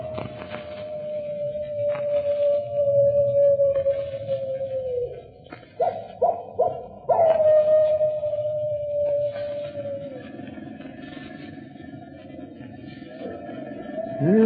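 A howling animal effect from an old-time radio detective drama: long, loud, wavering cries that sag in pitch, broken by a few short sharp bursts midway, over a low murky background.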